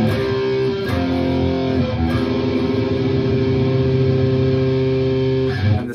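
Distorted electric guitar plays the opening of a Cyberpunk 2077 riff, heavy sustained power chords ringing through effects for about six seconds, with a short break and a fresh pick attack near the start and again at the end.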